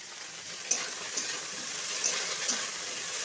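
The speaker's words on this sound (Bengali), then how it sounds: "এটা ভাজা ভাজা মতো হোক একটু পাঁচ ফোড়ন হবে" Food frying in a kadai with five-spice, a soft steady sizzle with a few faint clinks of stirring, fairly quiet and without speech.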